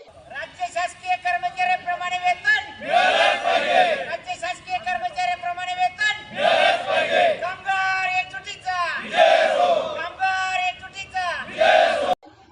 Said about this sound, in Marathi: यावेळी जोरदार घोषणाबाजी करण्यात आली आहे